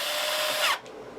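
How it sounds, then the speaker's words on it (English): A long drill bit bores into a custom Explorer-style guitar body, a loud, steady, close whine that grinds through wood and then cuts off abruptly, leaving quiet room noise. "Dang, that's a long drill, but is that really necessary?"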